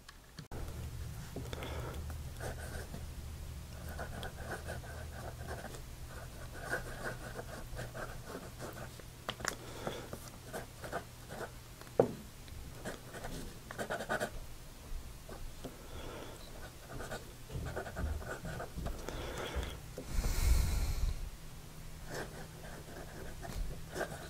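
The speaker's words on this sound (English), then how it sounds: "I think you can hear that nib on the paper." A Parker Ellipse 18K fountain pen nib writing on paper, a continuous faint scratchy rustle of strokes with short pauses, close and quiet against a soft background hum.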